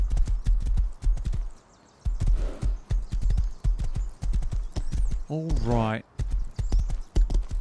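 Horse hooves clip-clop in steady rhythm within the survival video game Rust, with a neigh partway through, close and loud, while someone talks briefly over the trotting.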